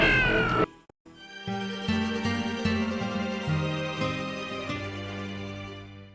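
A cat meows loudly and repeatedly, its drawn-out cries close and insistent, set against a steady musical backdrop.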